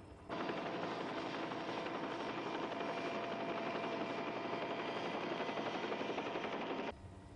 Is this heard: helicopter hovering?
yes